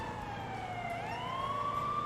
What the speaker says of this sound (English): How do I turn on, like, the alarm sirens?